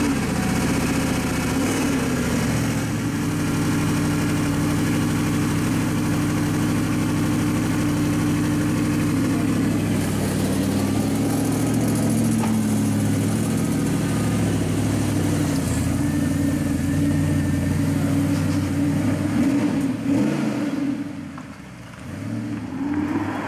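An Audi R8 V8 engine runs steadily with a deep, throbbing rumble, heard with the window down, rising slightly in pitch, then easing off near the end.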